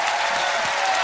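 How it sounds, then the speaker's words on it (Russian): Applause for a family of performers on a televised children's talent show, a short burst of dense, even clapping from a studio audience. "Еще раз аплодисменты всей семье Пашаевых"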